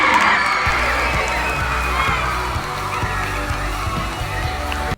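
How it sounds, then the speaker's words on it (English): A school crowd cheers and yells at a cheerleading banquet, a loud, continuous roar of voices over a thumping music beat that stays steady for the whole stretch. "Put the hands together and make some noise for one of our host schools"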